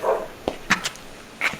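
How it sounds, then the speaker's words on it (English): A dog barks nearby in several short, separate bursts spread across a quiet room-tone background. "Sorry about the dog barking."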